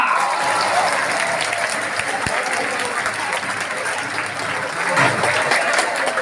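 A crowd at a Thane traffic police road safety campaign event claps loudly and continuously, the dense applause holding steady throughout with faint voices underneath.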